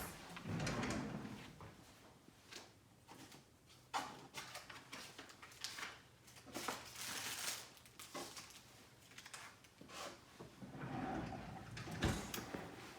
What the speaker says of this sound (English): we're gonna go to the supply drawer, grab my supplies.